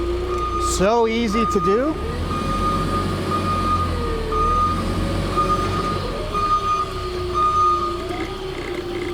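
A Yale GLP060MX 6,000 lb propane forklift reverses through figure eights, its steady engine drone running throughout with a brief rising and falling tonal whine near the start, while someone speaks briefly over it.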